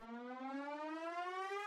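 A synthesized siren effect in an electronic music remix: one steady, rich harmonic tone that glides slowly upward, loud and continuous, with no voices.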